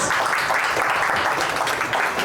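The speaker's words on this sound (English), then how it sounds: "Let's give KC a round of applause." An audience at a dividend investing Q&A session applauds for KC, a short steady round of clapping at moderate level with no pause.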